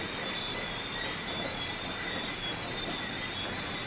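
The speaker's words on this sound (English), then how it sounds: "it is pouring outside" Heavy early-morning rain pours outside a resort room in Antigua, a steady, even hiss of downpour that holds unchanged throughout with no voices over it.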